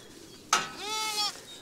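A single lamb gives one short, wavering bleat up close, lasting under a second, after a brief rustle, against a quiet farm background.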